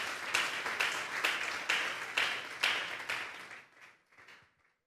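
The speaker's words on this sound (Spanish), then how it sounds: "Denle un fuerte aplauso pues al Señor." Congregation at a Sunday afternoon church service clapping, a full, moderately loud round of applause with rhythmic surges that thins out and fades into a few scattered claps.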